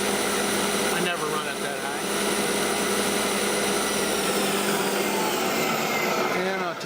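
A Milltronics VKM4 three-axis CNC mill spindle runs at high RPM with a steady loud whine and broadband machine roar, pitch rising slightly over time, while someone speaks over it.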